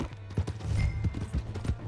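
Horse hooves clip-clop at a steady trotting rhythm on ground in the video game Red Dead Redemption 2, moderately close over a low ambient background.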